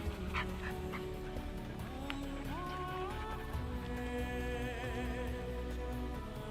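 A Belgian Tervuren shepherd dog out on a street walk gives a run of high, wavering whimpers and whines that rise and fall, close to the microphone, over steady background noise.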